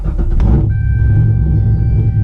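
A 510whp Chevrolet Corvette C6 sports car fires up, a short cranking burst settling into a deep, steady, close rumbling idle with a faint high whine above it.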